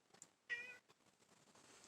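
A house cat gives one short, clear meow close by, rising briefly above quiet room sounds and faint rustling.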